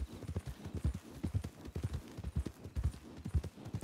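Horse hooves clip-clop in a ranch role-play video game, a steady walking rhythm of hoof strikes, close and clear with no talk over it.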